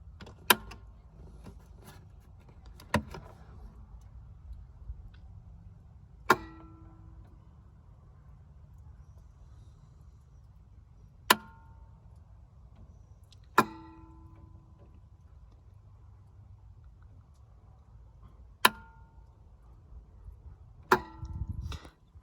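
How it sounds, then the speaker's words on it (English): An electrical relay in a 1999 Four Winds motorhome clicks sharply at irregular intervals of a few seconds, each crisp snap standing out clearly over a low, steady background hum. "if I plug this harness back in, you'll hear that this relay will click."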